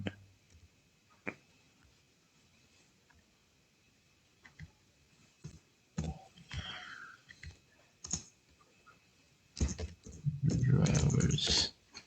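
A computer keyboard is typed on in sparse, quiet clicks and short bursts of keystrokes, followed near the end by a louder stretch with a voice.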